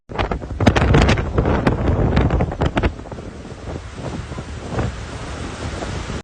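Cyclone Harry's storm winds roar across a Sicilian coast as sea waves crash, a loud continuous buffeting rumble with wind noise pounding the microphone, strongest at the start and easing slightly later.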